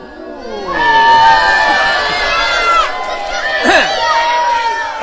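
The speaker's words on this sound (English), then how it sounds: "that didn't go over well with the crowd" A game show studio audience reacts with a swelling mix of voices, shouts and jeers that rises quickly, holds loud, dips briefly, then surges again.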